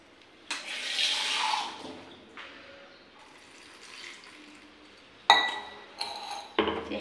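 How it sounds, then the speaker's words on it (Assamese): Water poured into a kitchen mixer jar packed with neem leaves, a short splashing pour followed by clinks and knocks of the jar and lid, close and fairly loud with no talking. "আৰু অকণমান পানী দিব লাগিব।"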